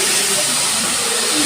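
Water hits a hot pan of fried onion with ground coriander and cumin, giving a loud continuous hiss that fills the whole brief moment.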